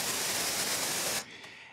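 Steady broadband white noise from an ES-1 synthesizer, loud and continuous, cutting sharply to a quieter, thinner hiss for the final half second.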